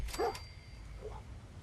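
Dogmeat, the dog companion in Fallout 4, gives a short bark or yip followed by a softer whimper, faint and brief over low game ambience.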